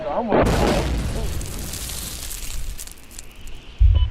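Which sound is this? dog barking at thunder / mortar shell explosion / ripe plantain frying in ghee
mortar shell explosion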